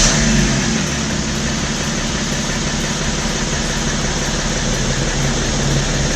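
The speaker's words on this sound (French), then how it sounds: "vous avez pu entendre, le moteur démarre correctement" A BMW X5 E70 3.0-litre diesel engine just rebuilt with a new head gasket and timing, starting and running with a loud, steady, rough mechanical drone throughout.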